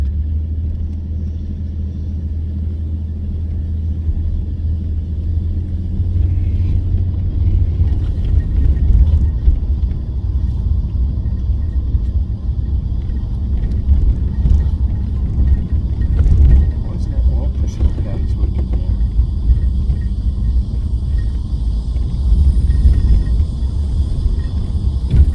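A 1977 Jaguar XJ6 Series 2 climbs a hill, its engine a steady, deep rumble from inside the car that builds slightly partway through, with a voice talking over it.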